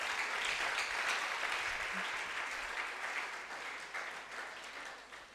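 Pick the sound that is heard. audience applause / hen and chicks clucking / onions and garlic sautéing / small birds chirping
audience applause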